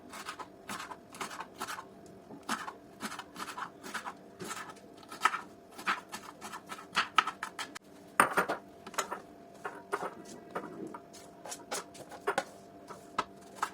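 A knife chops bell peppers into small cubes on a board for Egyptian shakshuka, making a quick run of crisp, uneven taps and clicks close by, with occasional louder knocks and no talking.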